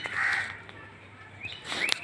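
Crows or similar birds call out in a couple of short, harsh caws, close and moderately loud, while being fed bhujia outdoors.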